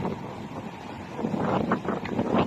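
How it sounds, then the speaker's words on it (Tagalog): Strong sea waves churn and crash on a beach in Alabel, Sarangani Province, Philippines, amid gusty wind buffeting the microphone, a rough, continuous roar of water with no talking. "Sobrang lakas ng alon."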